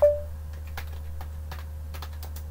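Keys on a computer keyboard are tapped to type a command, a sparse run of light clicks at an uneven pace over a low steady hum, close and quiet, with no talking.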